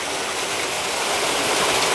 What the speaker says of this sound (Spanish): Mira el salto de agua.